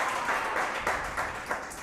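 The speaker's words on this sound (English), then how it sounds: "you can applaud for that." Applause during a live baseball team show at a Buffalo Wild Wings, a steady wash of clapping at moderate distance lasting under two seconds with no voices over it.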